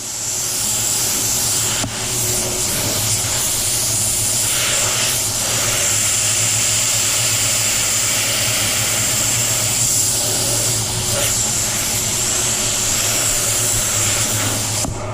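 An air blower drying a fresh light base coat of paint, a loud steady whooshing rush with a constant low hum that runs unbroken throughout, close up and alone.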